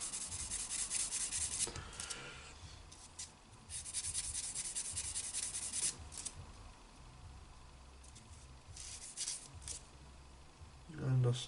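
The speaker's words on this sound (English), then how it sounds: "Gives it support as you're sanding it." Sandpaper rubbing on a small plastic part of a Tiger tank model kit near the sprue gate, a steady close scratchy friction in short repeated strokes with brief pauses, ending in a louder bump.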